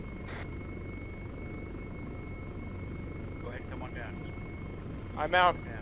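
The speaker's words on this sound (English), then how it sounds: "Alright, everybody close up on the helicopter." A helicopter's rotor drones steadily in the background during a military operation, its low rumble continuous beneath radio-style voices giving landing directions, with a louder burst of speech near the end.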